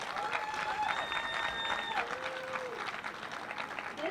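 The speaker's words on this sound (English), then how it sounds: "please give them a round of applause" Audience applause at a Juneteenth celebration in Scotch Plains, steady clapping from a crowd that fills the whole stretch, with whistles or cheers rising above it.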